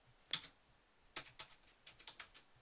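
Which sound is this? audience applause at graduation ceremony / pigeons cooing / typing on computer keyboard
typing on computer keyboard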